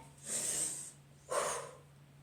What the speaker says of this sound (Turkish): Eğildiğinizde burnunuzdan nefes alacaksınız